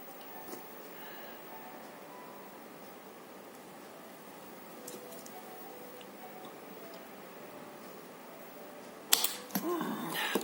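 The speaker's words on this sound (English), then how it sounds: "Or I can even spot weld something like this." A capacitive spot welder fires near the end, a sudden loud burst of crackling snap and sizzle on metal after a long stretch of quiet hiss with faint ticks.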